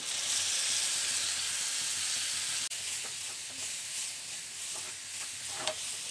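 Ground masala paste hits hot oil over fried onions in a pan, producing a bright continuous sizzle that softens slightly after a sharp tap, with faint stirring scrapes later.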